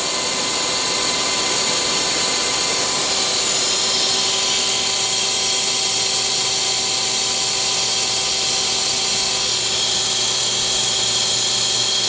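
A Mazak QTN 100ii MY CNC lathe with its main spindle running at 3,000 RPM gives a loud, steady high-pitched whine with a constant mechanical hum underneath, heard close and alone without any talk.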